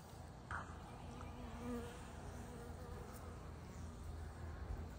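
A honeybee swarm buzzes in a steady, dense drone close by, with a continuous hum and no talking.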